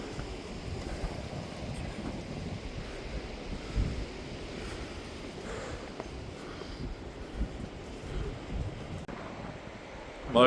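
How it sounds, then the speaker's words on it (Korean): Continuous wash of sea waves breaking below a coastal observation deck, mixed with steady wind buffeting the microphone outdoors. "끊임없이 들려오는 파도 소리"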